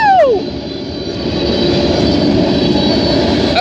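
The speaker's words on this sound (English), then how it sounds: "602 is a yard worker freight train" Union Pacific yard freight train passing in the dark early morning in Elk Grove, a loud continuous rumble and roar with a falling horn-like tone at the start, steady and close throughout.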